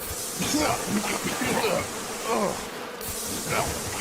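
Cartoon bees buzz steadily through the whole stretch, a dense swarm drone with rising and falling whine, close and fairly loud with no talk over it.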